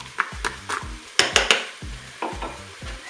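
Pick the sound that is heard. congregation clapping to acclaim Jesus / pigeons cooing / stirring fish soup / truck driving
stirring fish soup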